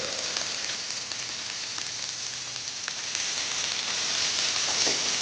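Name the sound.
onions sizzling in frying oil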